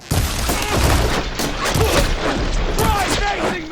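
Dense, continuous gunfire in a combat scene in the video game Horizon Forbidden West, a loud fusillade of overlapping shots with shouted voices mixed in throughout.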